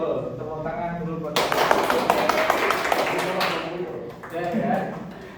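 A classroom group of participants breaks into applause, a burst of dense clapping that rises suddenly, holds for a few seconds, then thins out with scattered claps, with voices talking around it.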